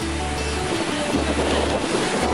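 Powerful rushing river water of the River Ness, heard from a bridge above, a steady, loud broadband roar with wind buffeting the microphone throughout.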